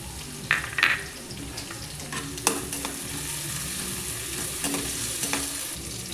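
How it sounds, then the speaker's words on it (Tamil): Onion and tomato stir-frying in a pan, a low steady sizzle with scattered scraping stirs and a few sharper clinks, close and moderately quiet with no talking. "வெங்காயம் நிறம் சேஞ்ச் ஆகட்டுங்க, அது வரைக்கும் வறுத்து விட்டுக்கோங்க"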